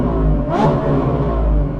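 A V12 car's exhaust revving hard during loud exhaust testing, a sustained close roar that swells in a quick rev and holds at high volume throughout.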